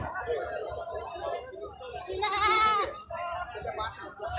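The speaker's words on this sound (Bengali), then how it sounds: "কতগুলো ছাগল নিয়ে আসছেন আজকে?" Goats at a goat market give a loud, wavering bleat close by, with other animal calls and people talking throughout.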